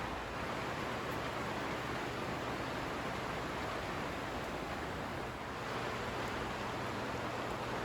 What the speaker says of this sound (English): rain on the plastic, but it's pouring here today